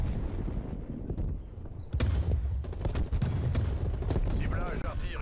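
Gunfire and artillery strikes in a beta build of a shooter video game. Sharp bursts and rapid cracks come in clusters and build into dense, loud barrages over a rumbling background.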